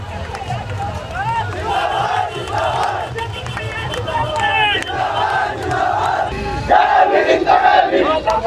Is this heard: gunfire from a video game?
no